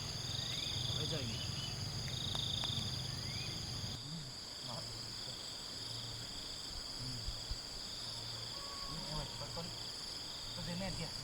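Crickets chirp in a steady high drone across the whole stretch, with rustling and light handling noise nearby while people talk.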